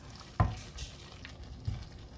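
Chicken bopis frying in a pan while being stirred, a soft sizzle with a sharp clack of utensil on the pan near the start and a second, lighter knock later, fairly quiet overall.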